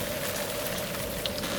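Steady rain falling on a surface, a dense continuous patter at moderate level with no voices, heard throughout.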